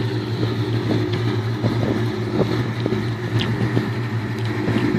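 Idling exhaust of a custom 2000 Ford Mustang GT fitted with 270 cams, a steady deep rumble close by with a slightly lumpy, loping rhythm and no talking.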